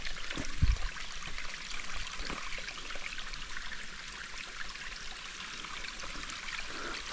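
Water trickles and flows steadily out of a cracked coal seam rock face along a trail, a soft continuous wash that stays fairly faint and even throughout, with one brief low thump near the start.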